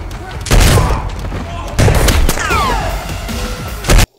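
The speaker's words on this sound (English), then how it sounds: "I love close range gunfighting in this movie and the last one" Heavy close-range gunfire in a John Wick Chapter 2 gunfight scene, loud sharp shots and booming blasts in quick bursts, very near, with a final sudden shot before cutting off.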